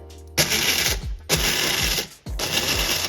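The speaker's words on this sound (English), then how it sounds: "this is an electric grinder" An electric coffee grinder grinds coffee beans at home in three loud, harsh whirring bursts with short pauses between them, close to the microphone and with no talking.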